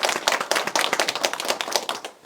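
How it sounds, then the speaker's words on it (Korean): Audience at a district council policy forum opening ceremony in Incheon claps after a congratulatory speech, close, crisp rhythmic claps from a modest crowd that taper off at the end. "다시 한번 큰 박수 부탁드리겠습니다."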